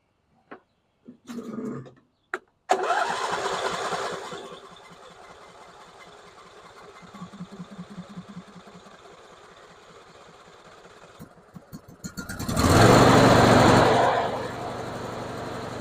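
A riding lawn mower that sat dead in a field since last year cranks with a rhythmic, labored chugging, then catches and fires into a loud, rough engine roar near the end before dropping back slightly.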